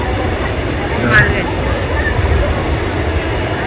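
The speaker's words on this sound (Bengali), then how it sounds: "ট্রেন গাড়ি" A train passes near a flower garden in Khirai, West Bengal. It makes a steady, loud, broadband rumble through the whole stretch, partly masked by people talking nearby.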